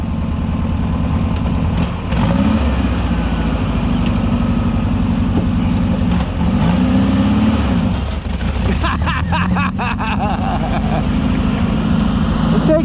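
A VW sand rail's engine during a ride, a steady loud low rumble that revs and shifts in pitch, with people talking over it.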